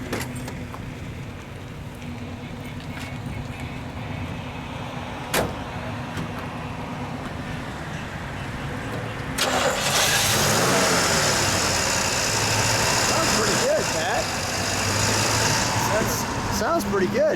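A 1968 Kaiser Jeep Jeepster Sport V6 engine runs at a steady idle, then revs up louder partway through and keeps running with a rougher, fuller rumble.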